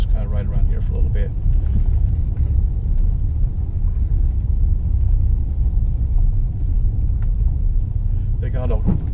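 A car cruising slowly through the small town of Madison, Kansas gives off a steady low road rumble and engine drone inside the cabin, with a voice talking faintly at the start and end.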